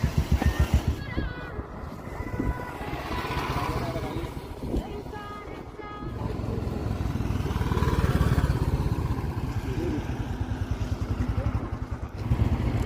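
A motorcycle rides along a mountain road near Mana village, its engine thrumming steadily with shifting wind and road noise, loud and close throughout, while someone talks over it.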